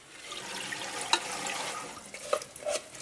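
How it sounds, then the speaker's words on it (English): Water runs and splashes over soaked sprouting seeds as they are rinsed in a strainer, a continuous close trickle with a few drips and clinks near the end. "I'm just going to give them a light rinse again"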